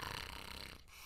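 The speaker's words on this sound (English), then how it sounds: "Oma and Opa Meiosaura were fast asleep, holding hands and snoring." Snoring from a sleeping figure, a single soft rasping breath that is faint and close, with no talking.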